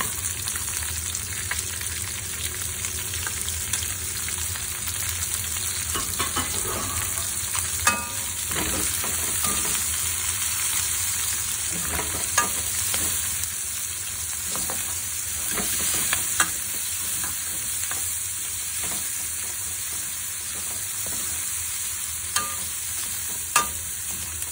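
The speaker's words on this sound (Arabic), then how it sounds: "دحين حضيف البصل." Onions sizzle and are stirred in a pan with garlic-ginger paste for chicken karahi: steady loud frying hiss throughout, with scattered scraping clicks from the stirring spoon.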